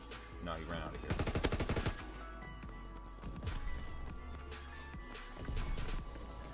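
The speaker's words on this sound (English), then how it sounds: "Considering two people were shooting me just then." Gunfire in the World War II shooter Call of Duty WWII, with several bursts of rapid shots at moderate distance. Dense game noise and rumble run underneath throughout.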